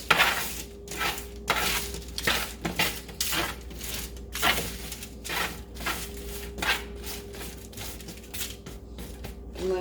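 Salmon being stirred in a cooking pan with a utensil, giving repeated scraping and clinking strokes in an uneven rhythm over a faint steady sizzle and hum, close and moderately loud.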